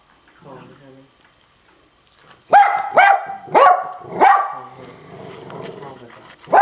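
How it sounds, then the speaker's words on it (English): A pet dog barking indoors in four loud, sharp barks spaced about half a second apart, with another starting at the end. Softer whining comes first, and a person speaks quietly between the barks. "And right back to barking."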